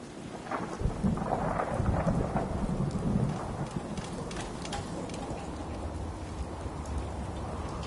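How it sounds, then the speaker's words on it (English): Steady rain with rolling thunder in the Fallout 4 video game, a dense continuous wash of downpour with low rumbles swelling early and then fading to a constant hiss. "Just thinking how wonderful it'd be to get out of this infernal rain."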